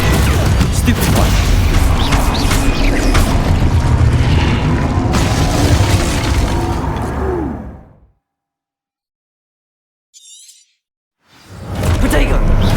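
Stupefy spell blasts burst in Hogwarts Legacy as loud whooshing booms and crackling impacts pile up densely, then cut to near silence with one brief flicker before the noise returns.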